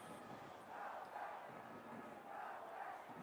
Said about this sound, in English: That's some strange cheering.